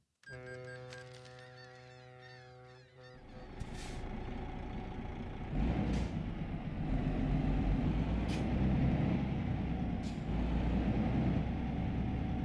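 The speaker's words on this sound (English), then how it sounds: "I don't like the sound of this truck" A truck in a video game driving near a port, its engine rumbling steadily and growing louder, with a few sharp hissing bursts like air brakes over the drone.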